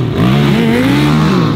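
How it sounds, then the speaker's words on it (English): A Yamaha R6 sport motorcycle fitted with homemade studded tires revs on ice, its engine note loud and close, rising and falling in a continuous harmonic whine. "Evan, a non-professional, not a stunt rider, on a Yamaha R6 with homemade studs"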